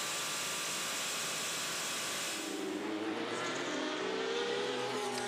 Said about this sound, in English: The fastest car around the modern Le Mans circuit ever, the Toyota TS050.